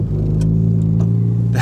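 A 1990 Honda Accord CB7 engine, started from a homemade ignition button, runs as a loud, close, steady idle hum with a few faint clicks over the top.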